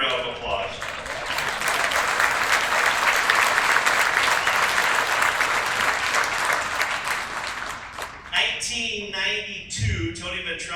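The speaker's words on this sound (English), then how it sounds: "I got to give Tony a round of applause" An audience at a sports awards tribute applauds warmly, a dense sustained clapping that fills the room and fades near the end, with a voice briefly heard afterward.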